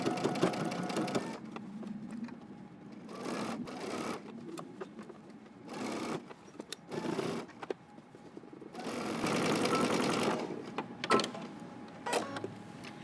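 Sewing machine stitching a jacket sleeve hem with a 1 1/4-inch allowance, slowly in a tight space: stop-start bursts of close whirring, with short pauses and a longer steady run near the end.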